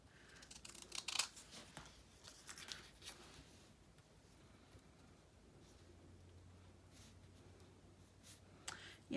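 Scissors snipping paper pieces for a collage at a craft table, a few quiet irregular cuts and rustles close by, faint and intermittent over low room noise.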